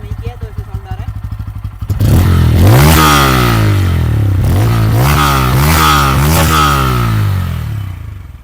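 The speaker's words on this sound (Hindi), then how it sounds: "तो एक्सीलेट करने पे ऐसा साउंड करती है।" A Bajaj Pulsar N160 motorcycle engine idling with a steady thump, then revved loudly several times in rising and falling surges before settling back, recorded close.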